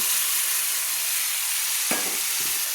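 Green peas fry and get stirred with spices in a pan for vegetarian ghugni, a loud continuous sizzle with a brief scrape of the spatula near the end.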